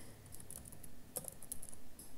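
Light keystrokes patter on a computer keyboard while a computer name is entered, a quick irregular run of faint clicks with short pauses and no voices.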